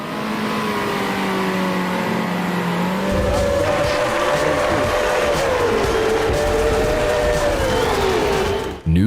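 F1 race cars in the New Star GP racing game, engines whining loudly and shifting pitch as they accelerate, with tire squeal mixed in, continuous and close for the whole stretch.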